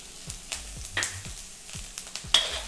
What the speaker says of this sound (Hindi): मैं इसमें डाल रही हूँ थोड़ा सा अदरक एंड हरी मिर्ची और कड़ी पत्ता।